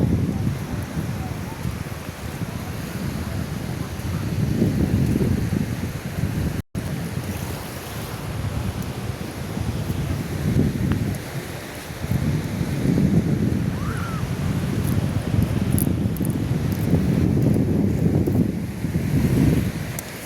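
Gusty wind buffets the microphone at the seaside, rising and falling over a continuous wash of surf for about twenty seconds.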